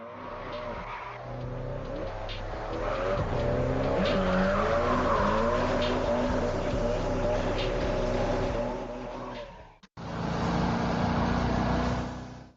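Cars drift in a racing video game, loud sustained tire squeal and skidding over revving engines that rise and fall, broken by a brief cut before resuming.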